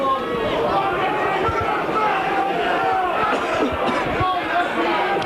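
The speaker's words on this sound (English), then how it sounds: "the crowd scream that Bradford are offside" A rugby league crowd at a Barrow v Bradford match roars and yells in a steady, loud wash of voices with scattered shouts that carries on without a break, while commentary-style talk runs underneath.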